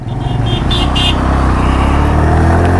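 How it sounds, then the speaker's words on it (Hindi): A Suzuki Mehran car drives along a mountain road in the Kaghan Valley, its engine a steady, loud, continuous drone that holds close and even throughout, with no talking. "पीछे देखो, गाड़ी है कोई, मेहरान है।"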